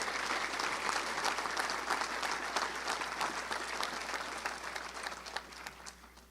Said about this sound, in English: Let's give them a round of applause as well of all of our great sponsors.